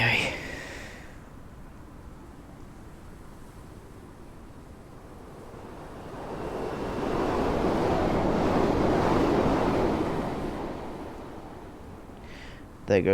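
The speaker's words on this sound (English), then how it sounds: "There goes the train." A train passes along snow-drifted rails: a broad, muffled rushing rumble swells up from quiet wind noise, holds loud for several seconds, then fades away again, with wind buffeting the microphone throughout.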